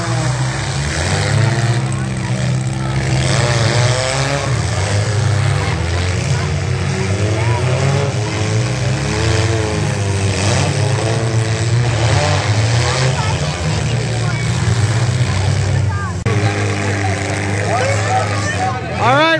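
Demolition derby cars at a fall fair, engines revving loudly and continuously with rising and falling pitch sweeps, crowd and commentary noise mixed in throughout.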